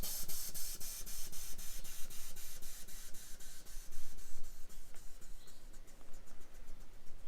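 Air ride suspension on a 2011 Porsche Cayman S hisses steadily as it deflates and lowers the car, a continuous close pneumatic spray with a faint rhythmic pulsing throughout.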